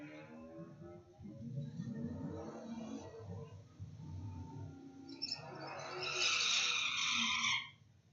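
Ford Focus ST and a 2019 VW Golf launching side by side down a drag strip at a raceway, engines rising then a bright high tire screech or skid near the end, moderately distant with no talk.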